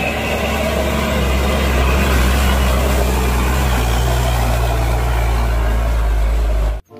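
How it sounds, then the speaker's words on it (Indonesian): A long tanker truck engine gives a loud, steady, low droning hum with a constant tone. It runs unbroken for several seconds, then cuts off abruptly. "Truk tangki panjang teman-teman."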